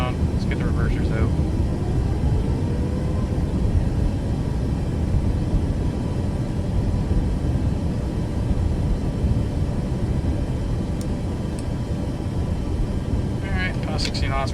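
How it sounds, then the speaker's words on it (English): In Microsoft Flight Simulator 2024, a Boeing 737 Max 8 deploys its thrust reversers on landing, producing a loud, continuous broadband engine roar with a voice speaking over it. "Bring the nose down. Let's get the reversers out."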